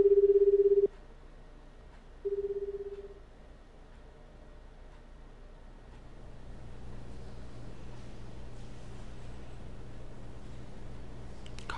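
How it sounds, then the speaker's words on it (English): Two short ringback-tone bursts from an unanswered phone call in the video game 428: Shibuya Scramble, then a low, steady ambient hum with no pickup. "Kano immediately pulled out his cell phone and called Tatsuno's number."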